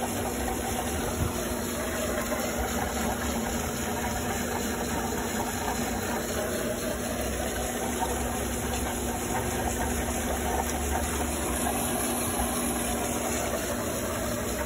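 An Intex pool pump runs on rinse, pushing water through a PVC drain pipe: a steady, unbroken hum and watery hiss at moderate level, constant for the whole stretch with no talk.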